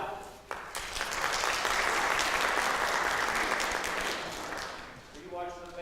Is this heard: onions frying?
no